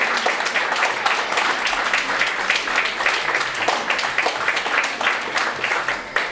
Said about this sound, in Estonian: Suur aplaus.